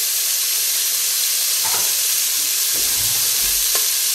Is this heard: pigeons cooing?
no